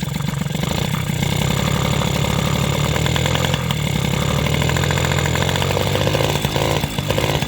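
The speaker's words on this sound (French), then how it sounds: "J'accélère un petit peu plus, le moteur il bouge moins." A loud engine on a modified SPX/RCX engine mount spacer runs at high revs, a steady buzzing roar with rough mechanical chatter, holding fairly constant throughout without talk.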